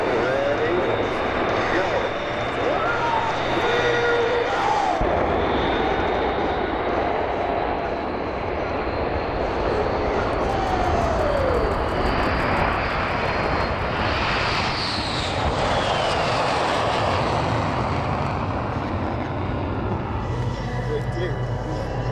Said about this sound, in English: And now the MiG races the shockwave jet truck to conclude its demonstration.